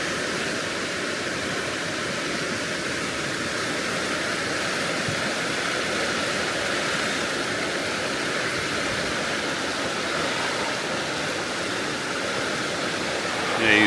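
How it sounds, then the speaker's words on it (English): Floodwater pours over a weir with a strong undertow, producing a loud, constant broadband rush that runs unbroken throughout, close by and without talk. "you've got a good old undertow here where that water's dropping in"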